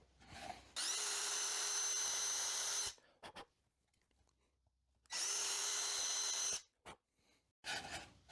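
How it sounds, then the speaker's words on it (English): Power drill countersinking a hole in a wooden piece for a grill accessory, two sustained whining bursts of roughly two and a half and one and a half seconds, close and loud, separated by quiet pauses and short clicks. "So I'm gonna countersink a hole right here"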